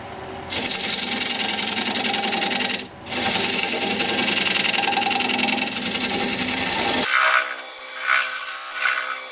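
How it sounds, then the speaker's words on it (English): A wood lathe spins a madrona blank while a recess tool cuts a dovetail, giving a loud, continuous rasping scrape with a brief dip, then stopping into quieter handling sounds. "I'm going to use a thinner tool, my recess tool, to put a dovetail on the side here"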